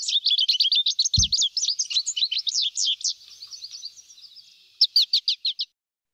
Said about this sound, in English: Is Anna play the goldfinch noise?